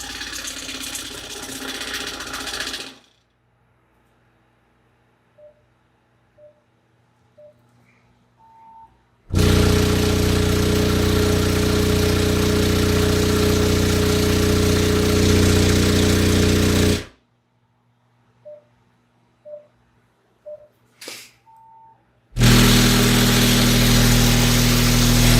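A B2 Audio Rampage 12 Elite 12-inch subwoofer pushes a very low bass test tone, around 10 hertz, in two long, loud, sustained blasts separated by near silence with faint clicks and taps.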